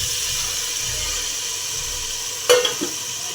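Tomatoes go into frying onions for a village-style mutton curry, a steady soft sizzle with a brief clatter and splash as they are tipped into the pan and stirred, with no talking.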